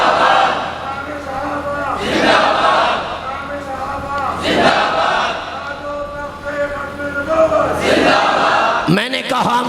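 A crowd at a Sunni religious conference in Bheen chants a slogan back in unison, loud, rhythmic bursts of massed voices rising and falling across the stretch.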